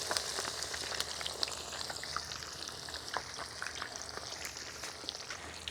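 Breaded keto fish fillets fry in a pan with a steady, even sizzle and fine crackling pops throughout, fairly quiet and close, with no talking.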